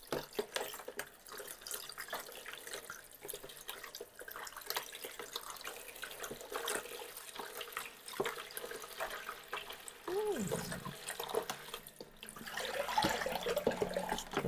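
Hand-dyed lace yarn rinsed under a running tap in a sink, steady splashing water with small drips and shifting flow, close by, with faint speech at times.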